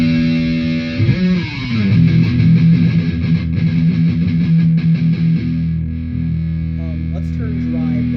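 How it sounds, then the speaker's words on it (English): A Line 6 M13 effects board adds lighter distortion to an electric guitar, sustained overdriven chords and notes ringing loud and steady for several seconds before trailing off into quieter picked notes. "Let's change that to not heavy distortion. Let's see how that sounds."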